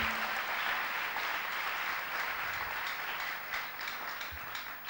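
Applause from a church congregation during a sermon on fearing God, a steady broadband wash of clapping that stays loud and fairly even throughout, with no clear talk on top.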